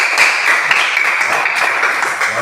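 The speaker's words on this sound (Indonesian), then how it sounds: "tepuk tangan sekali lagi" Classroom of children clapping their hands together in a fast, dense burst of applause that holds fairly loud and steady for a couple of seconds.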